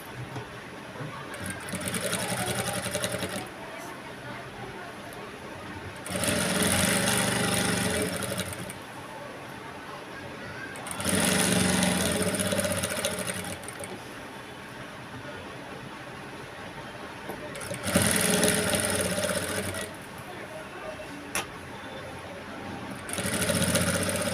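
A sewing machine stitches along the edge of a blouse waistband in repeated bursts of steady whirring, each a few seconds long, separated by quieter pauses.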